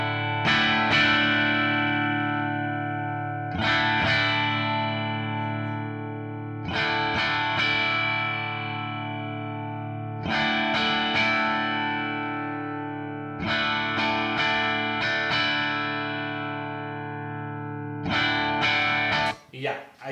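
An electric guitar played through Simplifier DSM, Humboldt and Iridium amp simulator cabinet emulations. It strikes about six loud, distorted chords at a steady pace, each ringing out before a brief gap.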